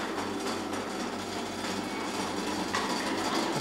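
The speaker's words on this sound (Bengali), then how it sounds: "ওটা ট্রেনের শব্দ।" A train rumbles steadily nearby, a dense, continuous roar with a faint rhythmic low thump running through it; no voices.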